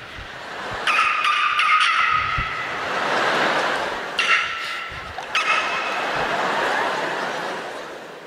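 A voice imitates basketball shoes squeaking on a court, giving a few sharp, high squeals in separate bursts over a steady background hiss, with no words spoken.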